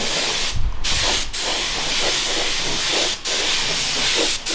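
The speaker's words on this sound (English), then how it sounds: "Okay, we're lacquering again." Spray gun applying lacquer to an Audi S4 body panel, a loud continuous hiss close by, broken by several brief pauses between passes.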